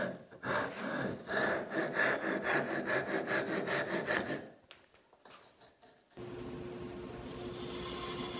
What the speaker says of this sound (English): I'm going to use my Andy Klein twin turbo vise to cut these guys to width